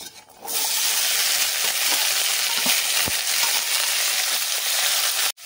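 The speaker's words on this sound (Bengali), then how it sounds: "ফোড়নটাকে একটু নাড়াচাড়া করে ভেজে নেব দিয়ে দিচ্ছি কেটে রাখা সব সবজিগুলো" Chopped vegetables hit hot oil already tempered with a bay leaf and a dried chili, setting off a loud, steady, close sizzle that runs unbroken for several seconds, with a few faint spoon scrapes, then cuts off abruptly near the end.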